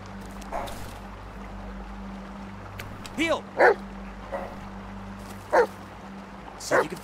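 A dog in the Blair Witch video game gives several short yips and whimpers, some brief and some rising, over a steady low electronic hum, with someone talking in between.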